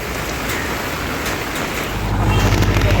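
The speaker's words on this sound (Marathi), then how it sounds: "पाऊस तिची इथे रिप्रीप चालूच आहे दिवसभर सकाळपासून" Rain falls steadily in a village with a broad wash of noise, joined partway through by a louder low rumble like a passing vehicle.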